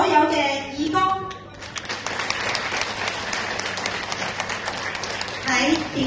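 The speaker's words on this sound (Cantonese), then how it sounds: "而家請以最熱烈嘅掌聲獻俾我哋所有嘅義工" At a community ceremony, the audience gives warm applause for volunteers, many hands clapping steadily for several seconds. A voice speaks over a microphone just before the clapping starts and again as it fades.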